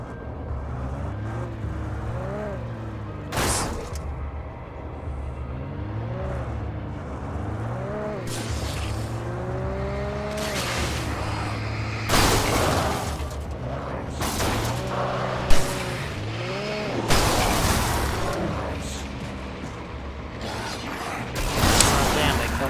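A car in the video game Alan Wake Remastered, its engine and mechanisms rising and falling in repeated revving sweeps with creaks and sharp clunks, close and fairly loud.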